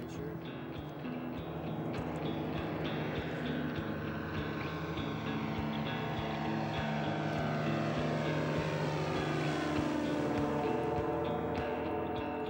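Small propeller airplane in flight on a reconnaissance trip over Alaskan mountains and a bay, its engine droning loud and steady throughout with a rising whine and no speech.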